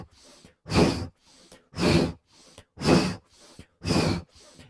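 Four strong breaths in a steady rhythm during a twisting yoga breathing exercise, each a loud, airy rush close to the ear, with softer inhales between them.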